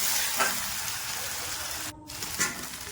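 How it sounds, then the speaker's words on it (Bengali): Ginger and garlic paste fries in a pan as the masala base for a simple biryani, giving a steady low sizzle with a couple of louder stirring scrapes, heard close and fairly quiet. "আদা বাটা রসুন বাটা দিয়ে মশলাটা ভালো করে ভেজে নেবো"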